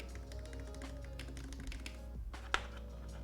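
Typing on a computer keyboard, a quiet, steady patter of keystrokes under a low hum, with one sharper, louder key strike near the end.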